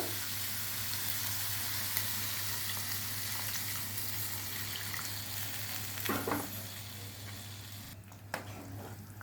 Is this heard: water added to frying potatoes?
yes